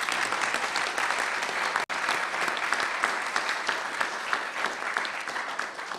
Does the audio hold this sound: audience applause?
yes